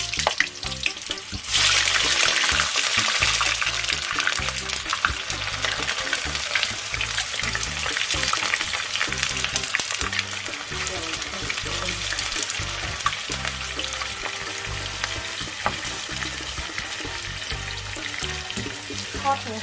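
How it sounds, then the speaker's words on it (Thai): Onions frying in hot oil for a Sri Lankan eggplant curry, a loud, dense, continuous sizzle and crackle close up that swells sharply after the first moments. "เราจะทอดทอดหัวหอมนะคะ"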